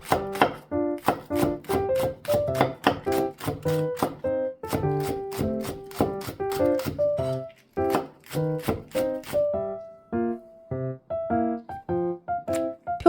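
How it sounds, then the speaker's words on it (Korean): Green onion is sliced with a knife on a cutting board for rice cake soup: quick, crisp chops in a steady, close rhythm that run almost the whole time, with a few brief pauses. "대파를 송송 썰어주세요."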